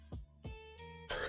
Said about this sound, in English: Sorry for my cough, guys.